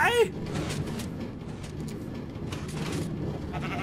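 A sheep in the Funny Rail video game gives a brief, quavering bleat right at the start, then people chatter continuously over busy game noise.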